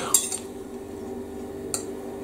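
Knife and fork scraping and clinking against a plate of doner meat and chips with chilli sauce, two sharp metallic clinks standing out over a steady low hum of utensil movement.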